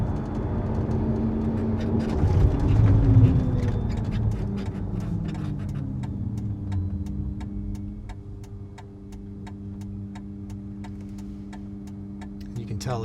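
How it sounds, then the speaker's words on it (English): A SEA Electric Hino electric truck idling and moving very quietly, with a low steady hum and faint whine from power steering, plus a regular soft ticking; a person talks over part of it. "You can hear power steering operation a little bit as you turn. Other than that, it is extremely quiet, just almost dead quiet."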